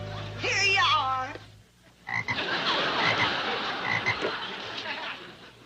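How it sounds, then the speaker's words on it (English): A frog croaks loudly and alone in the opening moments, a rippling throaty call, followed by noisy rustling and background commotion in an indoor scene. "It's a frog."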